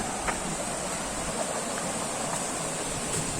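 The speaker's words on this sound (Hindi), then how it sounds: "छोटा छोटा वाटरफॉल क्रिएट करता है।" A small waterfall along a trekking trail at Asurkhol in Keonjhar pours with a steady, even rush of water that holds at a constant moderate level throughout, with no voices.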